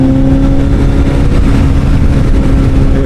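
Kawasaki Z900SE motorcycle engine roaring steadily as the rear wheel spins on a slippery wet floor, loud and close with a constant low drone.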